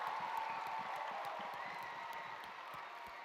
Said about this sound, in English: give yourselves a clap